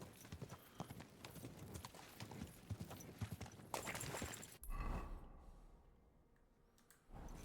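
Horse hooves clip-clop in Kingdom Come: Deliverance II, a steady run of close, fairly loud hoof strikes that breaks off and returns at the end.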